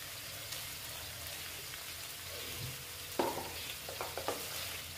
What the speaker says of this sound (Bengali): করে আমি এটাকে আবার নেড়ে চেড়ে নিচ্ছি ভালো মতন